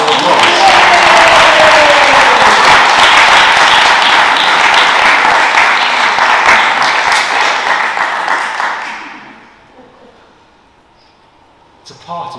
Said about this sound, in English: So why don't we give everyone a round of applause